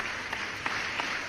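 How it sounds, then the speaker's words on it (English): A faint, thin applause sound effect plays during a live stream, a few soft, sparse claps spread over a short moment. "I'm going to give you an extra applause for that"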